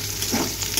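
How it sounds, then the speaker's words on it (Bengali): Sesame fritters frying in hot oil give a steady, close crackling sizzle with no speech over it. "এখন আমাদের জন্য কয়েকটা তিলের বড়া করবো।"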